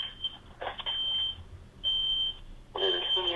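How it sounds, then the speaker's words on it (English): Loud, piercing electronic beeps repeat inside a house, with a pause between each burst, and people talk quietly underneath. "Something's beeping in the house right now."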